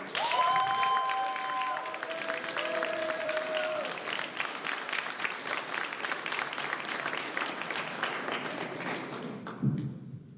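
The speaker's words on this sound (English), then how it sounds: "One more round of applause for everyone." Audience applause fills an awards ceremony hall, dense steady clapping sustained throughout with a few tonal voices or whistles early on, then fading toward the end.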